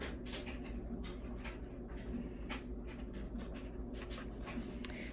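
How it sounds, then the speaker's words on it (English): Pen writing on paper, quiet close scratching strokes in short irregular bursts over faint background hiss. "So I'm going to write that at the top."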